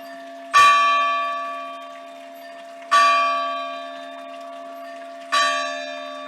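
A church bell in a village clock tower tolls three times at slow, even intervals, each strike ringing out loud and close and then decaying in a long hum.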